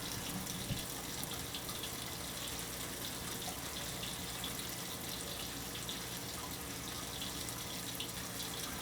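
Water runs continuously from a tap while shampoo is rinsed out of hair, a steady close splashing rush with no gaps and no voices.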